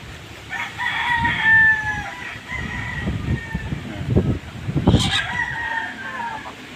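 Chickens in a breeding pen crow and cluck, with several rooster crows rising over busy clucking nearby and a faint voice in the background.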